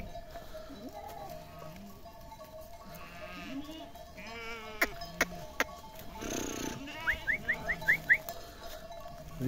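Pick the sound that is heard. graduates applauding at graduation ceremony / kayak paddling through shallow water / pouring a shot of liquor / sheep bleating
sheep bleating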